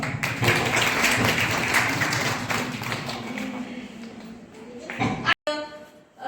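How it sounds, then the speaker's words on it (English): Audience applause at a women's day event at a women's college, a dense, sustained burst of clapping filling most of the stretch before thinning out and breaking off near the end. "please give them a huge round of applause."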